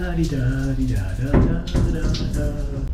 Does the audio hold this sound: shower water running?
yes